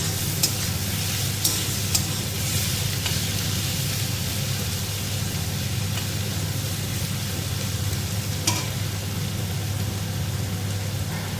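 Onions fry slowly in a pan for chicken kosa, giving a steady, moderate sizzle close by. A low hum runs underneath, with a few sharp clicks from a utensil.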